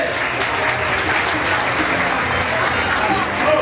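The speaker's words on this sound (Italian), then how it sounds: "Ragazzi, non ho sentito un applauso per Roby DJ" Audience applause for a DJ at a dance-school gala at the Megà, a dense, continuous roar of many hands clapping at steady volume for nearly four seconds, with crowd murmur mixed in.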